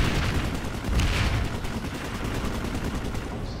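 Dense, continuous chain gun fire in the sci-fi shooter PlanetSide 2, a rapid steady stream of shots loud and close, overlapping with other gunfire and booms and no talking.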